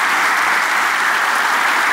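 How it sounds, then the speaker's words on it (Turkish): A studio audience gives steady, dense applause during a taping of a Turkish sketch comedy show. The clapping is loud and continuous throughout, with no voices over it. "Alkışlayınız"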